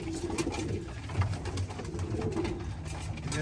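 Racing pigeons and Birmingham roller pigeons coo steadily inside a loft, overlapping low throaty calls rolling on continuously at close range with no talk.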